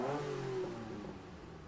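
Car engine in Gran Turismo 7, a 1970s model, revving briefly at moderate level, the pitch rising then easing off over under two seconds with no talk.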